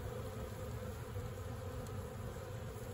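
Dense, steady buzzing of a honeybee swarm of over 70,000 bees, heard from right in its midst, with a continuous drone holding at an even level throughout and no voices.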